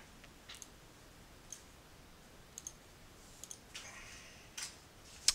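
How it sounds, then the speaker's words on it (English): Single mouse click saving a conference-call recording, a small sharp tick near the end, alone in a quiet room after a few fainter faint clicks. "So I click save."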